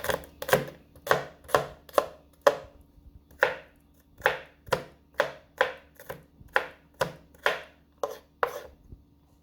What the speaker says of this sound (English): So I have a Stalk Scallion here, pounding it so the flavor can be released.